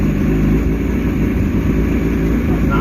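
Mercury outboard engine idling steadily at about 950 rpm, exhaust pushed out through the hub; a constant, loud low rumble continues without a break for the full duration, with no talk over it.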